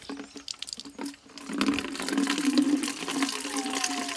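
Water runs from a tap while someone washes, starting with a few scattered knocks and splashes and then settling into a steady, moderate gush in a quiet indoor setting.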